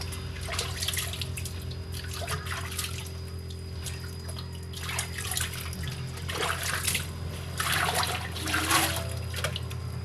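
Water runs and splashes in uneven bursts while homemade soap is rinsed off skin, a steady close trickle with louder gushes over a low background hum.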